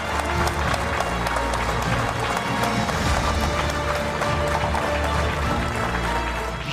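A large crowd of thousands applauding and cheering in India after the Chandrayaan-3 moon landing, a loud continuous roar of clapping and crowd noise throughout, with voices mixed into the din.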